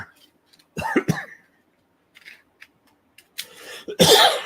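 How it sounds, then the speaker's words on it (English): Someone coughs and clears their throat several times in short bursts between quiet gaps, close to the microphone, with a louder harsh cough at the end. "Sorry about the coughing."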